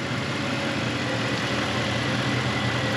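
A 4.0-litre twin-turbo V8 car engine idles with a steady, even low rumble and broad mechanical hum, close and unchanging throughout with no voices.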